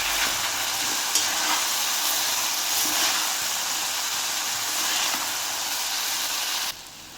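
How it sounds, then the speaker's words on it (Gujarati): French beans and carrot sabzi with spices sizzles steadily in a pan as it is stirred, a dense, close frying hiss with faint scraping that holds evenly before dropping off sharply at the very end. "હવે એને આપણે હલાવી નાખીશું."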